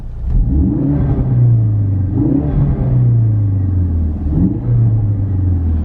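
A Ford Focus RS engine with a stage 2 remap rumbles steadily with repeated rev swells, low throaty exhaust burbles underneath, loud and close with no talking.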